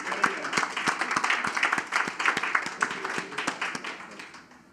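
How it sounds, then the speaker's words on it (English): A small audience gives a round of applause for an entertainer at a Ministry of Social Development and Family Services event in Trinidad and Tobago, with distinct individual claps in a fairly quiet, moderately distant burst. "And of course, I want to give a round of applause to our entertainer, Ms. Nisha Guy."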